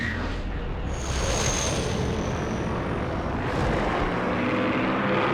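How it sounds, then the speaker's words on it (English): Custom thruster sound from a Mandalorian mod for Star Wars Battlefront 2, a steady roaring jet-like rush with a whistling tone, loud and continuous with a brief dip near the start and a swell later, no voices. "a custom sound for the thrusters"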